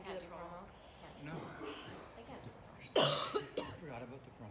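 Harsh, close coughing bursts from a person reacting to an extremely spicy chip, preceded by raspy throat sounds and breathing, with a loud cough fit in the middle and quieter ones after.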